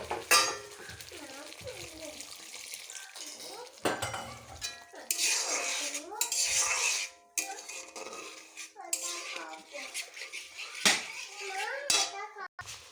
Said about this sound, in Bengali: আর একটু ভালো করে নাড়িয়ে নেব